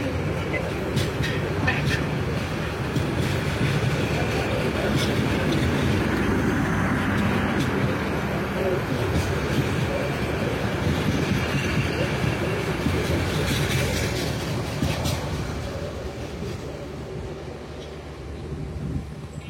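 The Dhaka-bound Brahmaputra Express passes close alongside a waiting Joydebpur commuter train, producing a loud, continuous rumble and rushing clatter with wind buffeting that eases slightly near the end.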